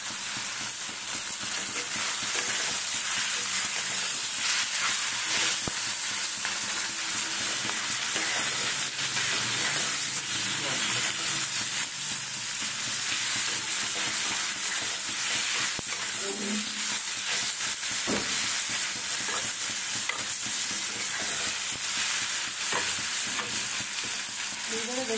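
Potatoes fry in a pan with turmeric, giving a steady close sizzle and hiss with occasional stirring scrapes, no talking.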